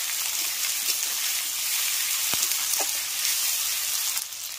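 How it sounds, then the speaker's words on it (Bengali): Ginger-garlic paste and turmeric fry over medium heat for a meat curry, giving a close, continuous oily sizzle broken by a few sharp spatter pops. "এবার কিন্তু আমি মিডিয়াম আঁচে এটাকে খুব ভালোভাবে ভেজে কষাবো"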